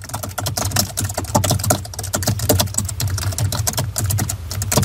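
Rapid typing on a computer keyboard while entering text into a spreadsheet cell, a close, continuous patter of crisp key clicks with no talking.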